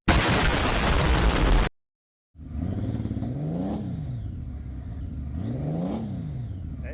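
A 1999 Honda Valkyrie motorcycle engine, salvaged and running poorly, first a loud rough burst that cuts to silence, then the engine running again with two swelling revs over a steady idle, close by.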